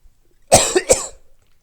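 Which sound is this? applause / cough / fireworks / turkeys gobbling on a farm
cough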